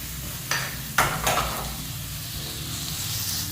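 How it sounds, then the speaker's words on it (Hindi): Vegetables shallow-fry in a pan with a tablespoon of vinegar, giving a steady close sizzle. A few quick utensil scrapes and clinks come early on, then the hiss continues alone. "अब इसको करते हैं शैलो फ्राई करने के लिए"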